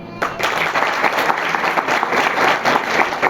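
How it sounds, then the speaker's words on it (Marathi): A seminar audience at a career guidance event held by an educational institute in Nashik breaks into loud, dense applause that starts abruptly and carries on steadily. "स्वतःसाठी आपण जोरात टाळ्या वाजवू शकतो का वाजूया बघा"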